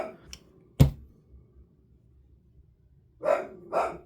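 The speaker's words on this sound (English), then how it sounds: "Dog." Dog barking nearby, one sharp bark followed after a pause by two quick barks in a row, loud and close over a quiet room.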